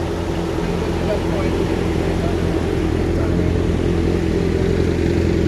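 Motorcycle engine running steadily, a loud continuous low-pitched rumble with a constant drone and no clear revs, heard up close at a street gathering.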